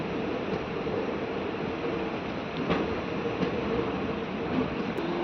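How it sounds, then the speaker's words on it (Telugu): A DEMU train pulls into Siddipet station, its steady, close rumble of wheels and carriage noise running evenly throughout with no voices. "ఫైనలీ మన ట్రైన్ సిద్దిపేట స్టేషన్కి చేరుకుంది"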